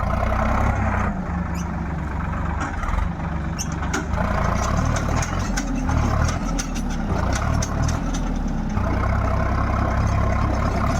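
A tractor engine straining under heavy load as it pulls on a column pipe during a strength demonstration in Thara, Gujarat, a loud continuous diesel rumble with intermittent knocks and rattles throughout.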